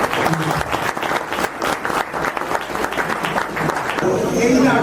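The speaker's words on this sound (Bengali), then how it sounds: "যদি ভালো লেগে থাকে তাহলে সবাই একবার হাততালি দিয়ে জানিয়ে দিন।" Sustained audience applause after a stage play, dense and steady clapping from a crowd throughout, with a few voices mixed in.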